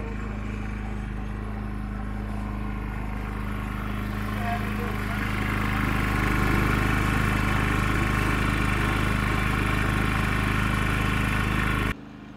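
A Predator 3500 inverter generator running steadily and then revving up under heavy load, a continuous close engine drone with a low hum that grows louder and stronger partway through, cutting off near the end.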